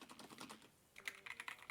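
Typing on a mechanical keyboard fitted with cat keycaps, a quick run of clicky keystrokes close up, pausing briefly before another burst of brighter, sharper clicks.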